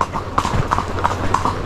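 Horse hooves clip-clopping along a wet, slippery trail near a cave in Puerto Rico, a steady rhythm of sharp, close hoof strikes repeating about every third of a second over outdoor ambience.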